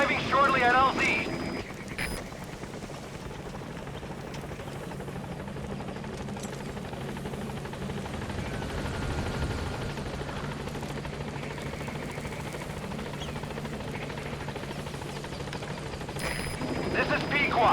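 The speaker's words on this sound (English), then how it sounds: "Support helicopter has arrived." A support helicopter in Metal Gear Solid V hovers down onto a landing zone, its rotor wash a steady, loud, broad roar that fills the whole stretch without letup.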